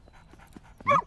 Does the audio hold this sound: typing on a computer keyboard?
no